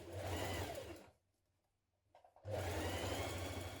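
Domestic sewing machine stitching a sleeve seam on a knit dress, a loud steady whir that stops for about a second with faint clicks, then resumes at full speed.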